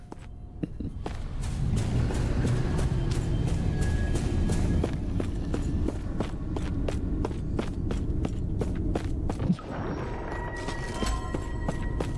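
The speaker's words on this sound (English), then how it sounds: "And you can hear the footsteps sound like they're in the area." Footsteps in the Last Epoch action RPG video game, a steady rapid patter of steps over a dense rumbling background, continuous and fairly loud with a brief thump near the end.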